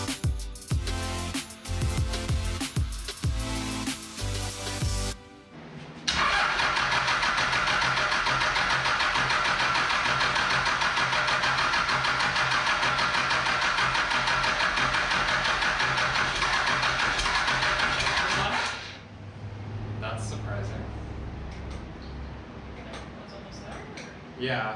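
A swapped-in Cummins diesel engine, fed by a custom fuel system and wired to a starter solenoid, cranks in choppy bursts, then roars into a loud, steady run for about thirteen seconds before dropping to a quieter rumble.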